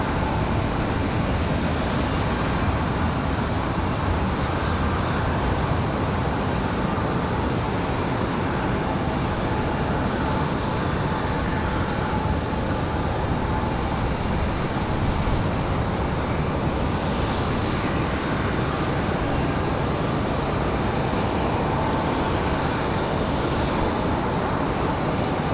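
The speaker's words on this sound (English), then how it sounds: "And we've got an American 737." An American Airlines Boeing 737 airliner at Raleigh-Durham International Airport gives a steady, loud broadband roar of jet engines, sustained without a break and with no talk over it.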